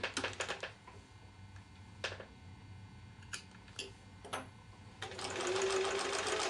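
A sewing machine stitches quilt block seams for a mini mosaic block, rapid mechanical ticking in short bursts with pauses, then a longer continuous whirring run at the end, close and fairly quiet.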